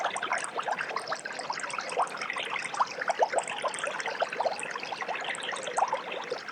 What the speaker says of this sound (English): he filled the pitcher full of water